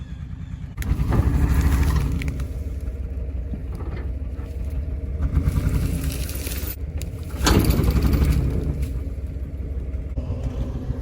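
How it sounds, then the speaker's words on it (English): A Chevy S10 pickup engine revs and rumbles while backing up through weeds, loud and close, with surges of throttle around the start and again later and a steady idle-like drone in between. "we're gonna back up the S10 and see how it'll pull the old Ford"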